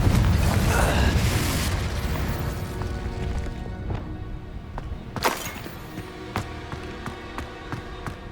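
Fiery Confringo and Incendio spells blast in the video game Hogwarts Legacy, opening with a loud rumbling explosion that fades into crackling, then sharp bursts and thuds, with a voice speaking over the combat.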